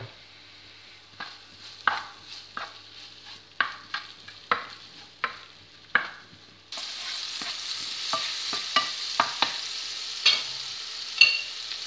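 Shrimp fry in a pan with a little salt. Loud, continuous sizzling is broken by repeated sharp scraping strokes as they are stirred, and the sizzle swells noticeably brighter partway through.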